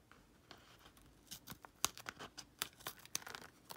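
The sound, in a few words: scissors trimming the edge of a napkin-covered composition book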